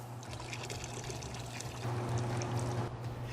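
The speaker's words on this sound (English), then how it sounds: "open the draw valve to draw off all of the sanitizing solution" Sanitizing solution drains from the draw valve of a Model C709 machine. It gives a steady pouring and trickling flow that swells slightly louder partway through.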